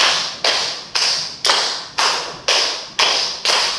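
Group hand claps repeat at a steady tempo, eight crisp unison claps from a class, near and fairly loud, each decaying slightly before the next.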